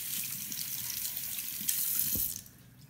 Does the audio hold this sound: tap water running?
yes